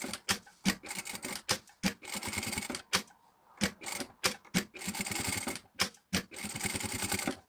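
A sewing machine sews a seam through fabric in a series of short, rapid stitching bursts broken by brief pauses, close and clear.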